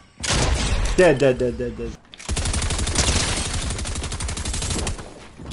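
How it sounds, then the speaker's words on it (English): Gunfire in Fortnite: a burst of rapid shots, a brief gap, then sustained automatic fire that runs nearly to the end, loud and close, with a voice speaking briefly. "Oh, someone's shooting us, Daze."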